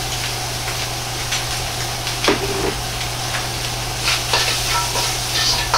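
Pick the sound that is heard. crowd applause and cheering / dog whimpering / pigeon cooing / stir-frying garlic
stir-frying garlic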